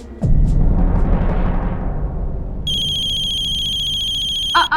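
A phone rings in a Hindi TV crime drama scene, its electronic ringtone entering partway through as steady high repeating tones over a dense low rumble of background music, loud and close, with no talk over it.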